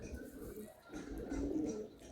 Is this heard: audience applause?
no